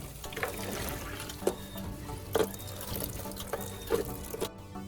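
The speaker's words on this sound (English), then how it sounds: "Now I'm going to rinse all the parts with clean water to remove any remaining baking soda, vinegar residue, or rust dust." Clean water runs and trickles steadily over scissor parts being rinsed of baking soda, vinegar residue and rust dust, with a few soft clinks of metal under the flow, close and fairly quiet, no talking.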